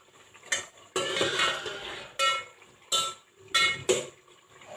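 Chicken karahi being stir-fried in a pan, with a utensil scraping and clattering against the metal in several loud bursts separated by short quiet gaps and a faint sizzle underneath.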